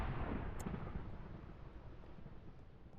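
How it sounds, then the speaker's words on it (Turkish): Explosions going off outside in the Minecraft modpack GT New Horizons, heard as a loud, sustained low rumbling roar that slowly fades over a few seconds, with no voices. "Dışarıda ne oluyor? Patlama bir şeyler oluyor."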